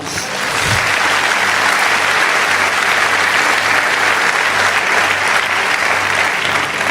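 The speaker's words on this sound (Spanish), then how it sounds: "¿Cuánto dan un aplauso al Señor?" A church congregation claps loudly and steadily for the Lord during a service, a dense, continuous wash of applause after a brief start, with no voices above it.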